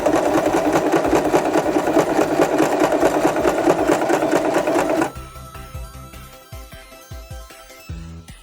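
A sewing machine runs a straight stitch over elastic fabric, a fast steady close rattling hum for about five seconds, then stops, leaving scattered clicks and handling sounds.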